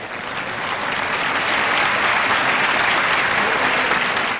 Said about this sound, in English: We'll clap literally anything.